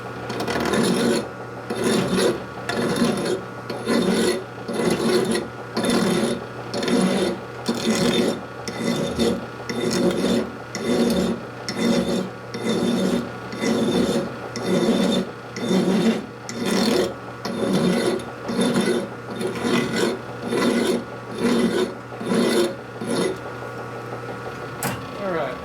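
Coarse double bastard file rasping steadily across metal during a Harley Shovelhead engine case repair, with about thirty regular back-and-forth strokes close up and loud, keeping a constant rhythm from start to finish.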